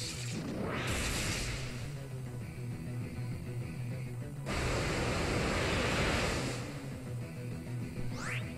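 A rushing, roaring water surge for the Waterfall attack in the Pokemon Sun video game, two long loud broadband waves of noise with a brief swooshing sweep at the very end, no voices.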